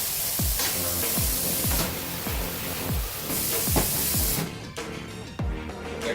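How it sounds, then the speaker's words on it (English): Water spraying from a tap onto a cutting board in a home kitchen, a steady hiss broken by repeated splashing knocks and clatters as the board is rinsed, fairly close. "I'm gonna go ahead and rinse my board off here"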